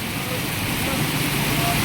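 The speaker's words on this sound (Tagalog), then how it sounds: "At ang sobrang lakas ng ulan." Heavy rain pours in a steady, loud broadband hiss, with a low rumble of road traffic beneath, near a petrol station and market in Nasugbu, Batangas.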